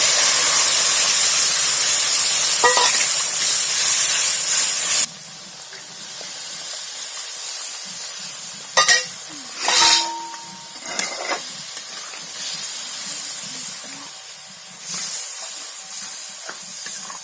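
Tomato puree hits a hot pan of cumin, bay leaf, turmeric and chilli powder for a potato soybean curry, giving a loud close burst of steamy hissing that drops after a few seconds to a quieter simmering sizzle with a few clinks.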